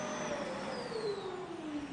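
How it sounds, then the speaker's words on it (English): Vacuum cleaner running during a consumer noise test, a steady loud whirring roar with a slowly falling whine, continuous throughout. "The testers are to evaluate the noise of several vacuum cleaner models."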